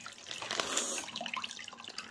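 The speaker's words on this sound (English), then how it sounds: "It's leaking out here." Water trickles and drips steadily from a leaking zip lock bag, a faint, close splashing sound with no talk over it.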